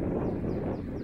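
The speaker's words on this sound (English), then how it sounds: "Getting a bit of wind here, too." Steady coastal wind rushing and buffeting against the microphone in a seaside burial ground, a dense low roar with no voices.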